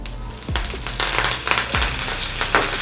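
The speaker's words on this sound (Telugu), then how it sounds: "ఇప్పుడు కరివేపాకు వేగింది" Curry leaves frying in tempering oil with urad dal, mustard seeds and cumin, for a radish (mullangi) chutney: a steady close sizzle with sharp crackling pops and a couple of louder spatters.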